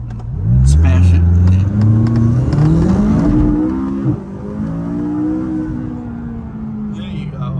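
A McLaren 570S launches hard from a green light, its engine roaring close and loud, climbing through the revs and then settling into a steadier drone, with faint talk at the end.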